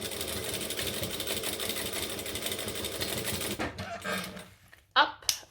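A sewing machine stitches a dart on a Sandra Saddle Bag from Swoon Patterns, running in a steady fast whir for a few seconds before stopping, followed by a few faint handling knocks.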